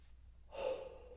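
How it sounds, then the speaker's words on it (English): A single deep breath drawn in through an open mouth, starting halfway through after near silence and swelling into a close, airy inhale that holds steady to the end. "just open your mouth and take a nice deep breath"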